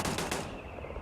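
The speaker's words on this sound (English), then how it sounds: "Sounds like a turret." A turret fires in Starfield: a quick rattle of rapid shots in the first half-second, then a ringing tail, fairly loud and close with no speech.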